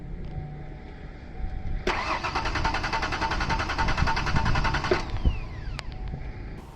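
A 1993 Ford Explorer engine cranks on the starter for about three seconds in a steady, rapid rhythm that stops abruptly without catching, with faint background noise before and after.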